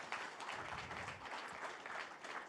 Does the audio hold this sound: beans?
no